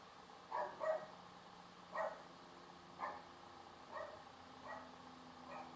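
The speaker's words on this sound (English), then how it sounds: "my dog's barking" A dog barks in the distance, six faint barks spaced about a second apart over a quiet background hum.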